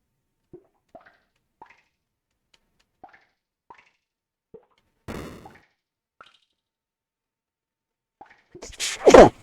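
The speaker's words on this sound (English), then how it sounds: "Of course, I had to sneeze." A single sharp, close sneeze bursts out near the end, preceded by a few soft clicks and a brief broadband whoosh.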